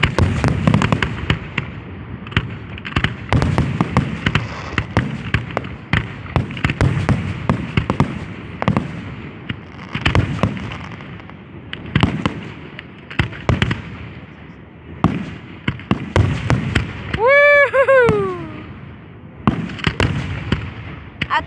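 Fourth of July fireworks finale: a dense, rapid barrage of booms and crackling bursts fills the whole stretch, loud and close, with one whistling rocket rising partway through; voices are faintly present among the blasts.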